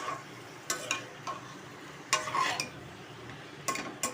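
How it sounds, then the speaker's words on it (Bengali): Jackfruit lightly frying in a pan for a curry, with a low steady sizzle beneath occasional spoon scrapes and clinks against the pan in short bursts. "দেখতে পাচ্ছ একটু হালকা ফ্রাই করে নিচ্ছি"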